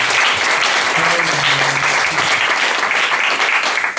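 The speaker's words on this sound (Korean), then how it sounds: "큰 박수로 다시 한번 환영하겠습니다." A church congregation claps loudly to welcome new youth members and freshmen, a dense, sustained round of applause with some voices calling out beneath it.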